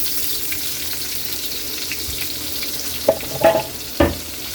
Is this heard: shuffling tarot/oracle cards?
no